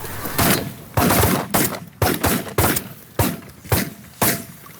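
Repeated shotgun blasts at snow geese during a spring hunt, about nine sharp close reports in quick irregular bursts, some shots nearly overlapping, loud against a quiet field background.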